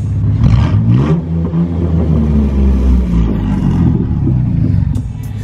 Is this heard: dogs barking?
no